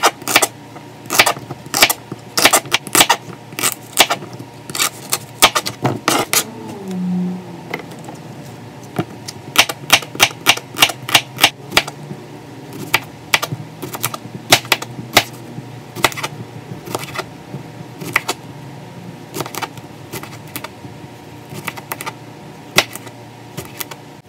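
Fast, irregular knife chops on a cutting board while fresh fruit, including bananas, is prepped, a busy run of sharp clicks and taps that thins out toward the end, with no one speaking.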